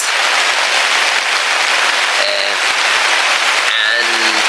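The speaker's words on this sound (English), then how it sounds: "I'm having to shout to try and be heard over the weather." Heavy, unrelenting rain and gusting wind batter a tent, a loud, dense roar of drumming drops filling the whole stretch, with faint tonal sounds briefly poking through.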